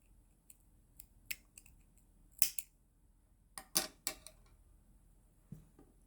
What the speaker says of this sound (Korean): 이 실은 이제 끝났으니까 잘라 주겠습니다